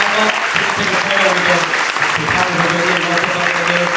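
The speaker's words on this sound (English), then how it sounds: "let's give one last giant round of applause to the panelists who are up" A conference audience gives the panelists a loud, sustained round of applause at a business masterclass session in Orlando. The dense clapping carries on throughout under a speaking voice.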